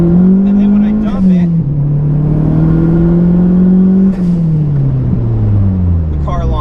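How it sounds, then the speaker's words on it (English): A Dodge Neon SRT-4 engine revs hard at wide open throttle while brake boosting, the loud close roar holding, dipping and rising again, with a voice talking over it at the start and end. "I'm going to go wide open throttle"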